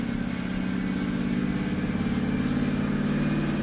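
A supercharged Hemi Charger engine revs hard and steadily through its gears, a loud, continuous, throaty roar that holds at full volume the whole time with no talking.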